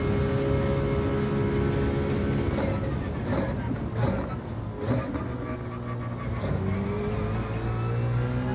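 A Citroen GT race car engine drones steadily and loudly at Interlagos in the racing game Gran Turismo 7, with brief dips in pitch as it brakes and downshifts.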